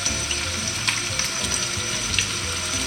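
Onions for a Catalan sofregit fry in a pan with a loud, continuous close sizzle and occasional crackles and pops, with no speech.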